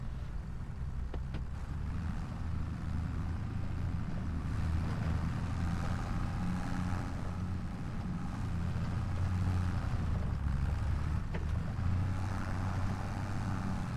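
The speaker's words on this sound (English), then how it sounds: "Now the tractor should be able to, yeah, attach and pull." Steady low tractor engine drone while pulling cut logs in a logging roleplay game, a continuous near rumble that holds level throughout with no talk.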